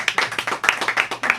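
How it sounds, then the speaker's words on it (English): A small studio group claps for Daniel, a Telecaster guitarist, with quick distinct hand claps in an uneven rhythm over about a second and a half, close and moderately loud. "let's give Daniel a round of applause"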